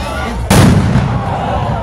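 Large firecrackers go off at a Tet celebration at Phuoc Loc Tho in California in 2024. A sudden loud blast erupts partway through and continues as a dense, sustained crackle over a steady crowd background.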